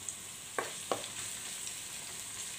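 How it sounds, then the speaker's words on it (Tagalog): Onions sautéing in a pan for sardines with egg, a steady faint sizzle broken by two brief scraping stirs near the start, with no voices. "Simulan na natin mag-gisa ng sibuyas."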